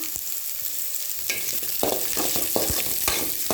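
Radish sautéing in a pan, a close, steady sizzle with repeated scraping stirs of a spatula across the pan, no talking.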